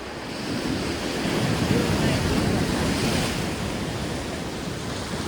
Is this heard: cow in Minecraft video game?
no